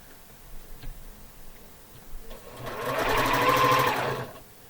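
A home sewing machine chain-piecing blue and background quilt squares, starting up after a quiet moment and running in a steady, close whirring stitch burst for about two seconds before slowing.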